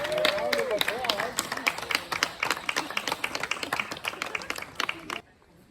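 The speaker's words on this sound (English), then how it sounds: "Let's give Nala and trainer Katie a round of applause" Crowd at an outdoor animal show in the Wisconsin Dells clapping in a loose, uneven patter of sharp individual claps, with some voices at the start, then stopping abruptly into near quiet.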